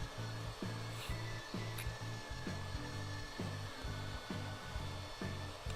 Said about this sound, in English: I'm just going to slowly router out the inside of that clover.